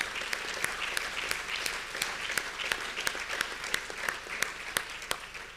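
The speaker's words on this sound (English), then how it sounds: "And I would like to applaud Donella" Audience applause at a commemorative gathering fills the room, dense steady clapping with a few sharp, close claps standing out, no speech over it.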